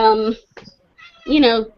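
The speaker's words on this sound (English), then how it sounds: "sorry, my cat's meowing at me." A house cat meows twice nearby, two loud, drawn-out calls separated by a short pause, with a faint softer sound between them.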